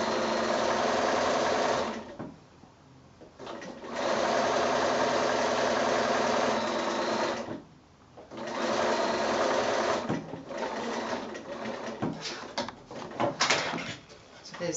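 A sewing machine stitches fabric strips for wonky house bunting, humming loud and near in sustained runs broken by short pauses, then turning choppy with quick starts and stops toward the end.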